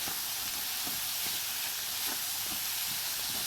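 Stir fry sizzles steadily in a pan after sauce is added, a loud, constant frying hiss with faint soft stirring knocks beneath it.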